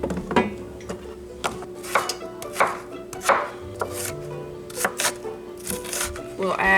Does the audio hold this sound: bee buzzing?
no